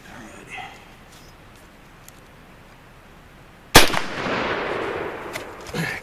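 A British Lee-Enfield bolt-action rifle, caked in mud from a mud test, fires a single loud, sharp shot after a quiet stretch, followed by a lingering echo and outdoor rumble.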